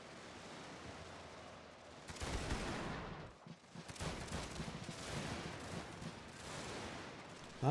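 Musket infantry fire volleys in a Shogun 2 battle, with a dense wash of distant crackling gunfire that swells in rolling waves and hangs under a constant battlefield rumble. Fairly quiet, with no voices.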